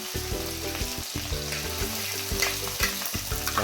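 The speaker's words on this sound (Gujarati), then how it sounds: "ડુંગળીને 2 મિનિટ તેલમાં તેને ચડવા દઈશું" Onions sizzle steadily in hot oil with garlic and chili paste for a Ratlami sev curry, a loud, dense frying hiss with occasional stirring clatter close by.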